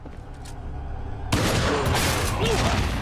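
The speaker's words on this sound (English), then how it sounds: "Yeah, rocket launchers are dangerous." A rocket launcher explosion in Resident Evil 4 hits with a sudden loud broadband blast about a third of the way in, then a dense roaring rumble and debris that holds steady to the end, with a voice faintly underneath.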